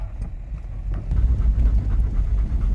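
A dog pants in quick, steady breaths at a Portuguese farmhouse, close to the microphone, with low wind rumble underneath.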